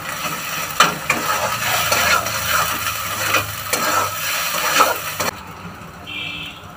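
Garlic and ginger being stir-fried in a pan, with sizzling frying and repeated scraping strokes of a spatula in an uneven rhythm, close by, before the sound cuts off sharply near the end.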